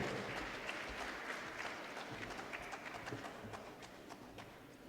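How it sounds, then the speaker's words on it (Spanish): An audience at a political seminar applauds a fellow delegate with continuous, fairly faint and distant clapping from many hands, a dense patter that slowly fades over several seconds. "un aplauso para el compañero"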